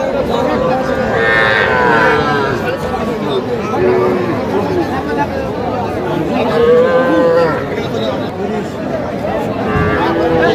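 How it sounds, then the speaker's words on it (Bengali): Young bull calves mooing at a busy cattle market in Madaripur, several drawn-out bellows rising over a constant crowd hubbub and overlapping chatter from buyers and sellers. "ষাঁড় বাচ্চা।"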